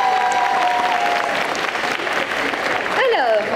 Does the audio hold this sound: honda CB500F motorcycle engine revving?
no